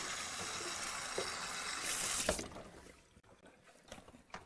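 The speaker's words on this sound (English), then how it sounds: "So I'm going to take you over here with me to the sink. We're going to get some water on our pad." Water from a sink tap running over a pad as it is wetted, a soft splashing gush for a couple of seconds that cuts off, followed by quieter handling noises and small knocks.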